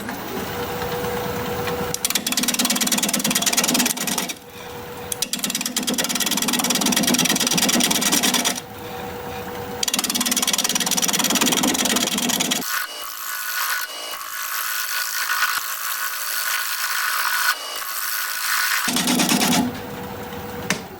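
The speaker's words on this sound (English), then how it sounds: "We're going to be turning at 560 RPM, 5/8 inch bowl gouge, mask, and face shield on." A wood lathe turns a plum crotch bowl at 560 RPM, a 5/8 inch bowl gouge cutting in steady stretches of hissing, scraping noise over a constant motor hum, with brief breaks between passes.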